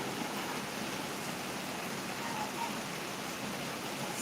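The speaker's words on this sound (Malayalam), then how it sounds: "സാവകാശ മഴ ഇങ്ങനെ നിന്ന് പെയ്യുവാണ്" Slow, steady summer rain falling in an even, soft hiss that stays constant and fairly faint throughout, with no voices.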